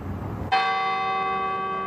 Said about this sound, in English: At noon, the bells of Grace Cathedral rang in the Queen's honor.